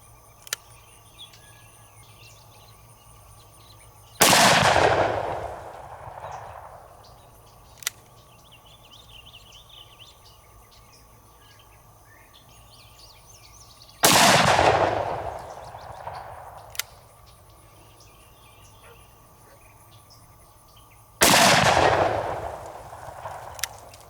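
A Magnum Research BFR revolver fires three 45-70 300-grain Barnes rounds outdoors at a range, each a sharp, loud blast followed by a fading boom, spaced about ten and seven seconds apart over quiet background insects.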